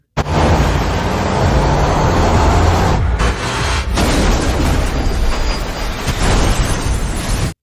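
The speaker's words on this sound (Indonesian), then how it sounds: "supir itu membuat truknya oleng dan terguling hingga meledak di depan kantor polisi" Loud crash and explosion as a truck overturns and blows up in front of a police station in Resident Evil, a sustained roaring burst with crashing debris and rumble, briefly dropping and surging again, no talk.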